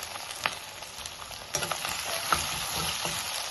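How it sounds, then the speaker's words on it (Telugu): Green chillies fry in a pan after a ginger and small-onion paste, with a continuous crackling sizzle. Close stirring clinks and scrapes sound throughout, and the sizzle grows louder halfway through. "కొంచెం ఫ్రై చేసుకున్నాం."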